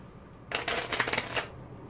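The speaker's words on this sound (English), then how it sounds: "So you have the riffle shuffle, which is taking 2 packets of cards like this" Playing cards riffle-shuffled by hand as two packets are woven together, a quick, close, crisp flurry of fluttering clicks lasting about a second, with no talking over it.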